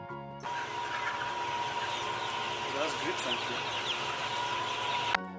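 A hen clucks in short, soft bursts mid-clip over a continuous hum and backing sound, fairly faint and partly masked.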